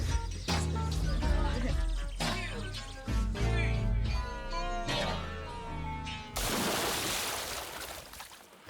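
A person's voice imitates a cat, giving several drawn-out meows one after another, close and fairly loud, ending in a burst of rushing noise.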